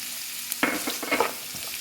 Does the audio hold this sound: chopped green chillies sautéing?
yes